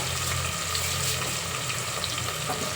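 Moong dal frying in a pan, a steady dense sizzle with soft crackles, close and continuous for a few seconds with no talking.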